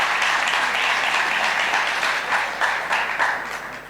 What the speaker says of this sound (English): Mr. Howell, with a round of applause, please.